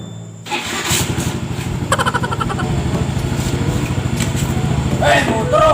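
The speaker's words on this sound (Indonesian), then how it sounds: "Motor." A motorcycle engine starts up close by and settles into a loud, rapid, chugging run, with people talking over it.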